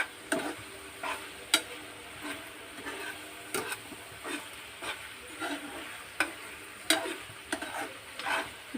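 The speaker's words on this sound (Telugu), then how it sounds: "ఇది పూర్తిగా డ్రైగా మారే వరకు ఇంకా ఒకసారి ఇలా కలుపుతూ ఉందాం ఒక 2 నిమిషాలు" A spoon stirs and scrapes through a rice dish frying in a pan, with irregular close clinks and knocks over a soft steady sizzle, and no voices.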